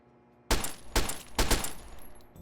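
Gunfire in the video game Fallout 3 comes as three loud, evenly spaced shots, each with a short ringing decay, fired in steady succession.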